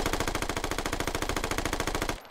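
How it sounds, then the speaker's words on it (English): Automatic rifle fire in the video game Squad comes as a loud, rapid, evenly spaced burst of shots that stops abruptly near the end. "automatic fire has hella recoil"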